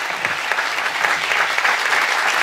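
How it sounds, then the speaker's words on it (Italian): A crowd at a local sports awards ceremony in Rivarolo Canavese applauds an honoured athlete, with dense, steady clapping that holds at even strength throughout. "Allora ancora un applauso Stefano Demo."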